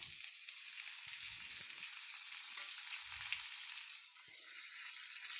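Spices and ridge gourd pieces fry in oil in a pan, giving a steady, bright sizzle that runs continuously, with a few soft low knocks and stirring sounds beneath.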